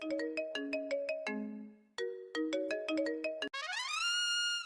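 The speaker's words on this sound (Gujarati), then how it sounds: "જો તો ફોન આવ્યો, કોણ છે?" Phone ringtone playing a loud, bright melodic tune of repeated chiming notes, ending in a rising sweep, with no voices over it.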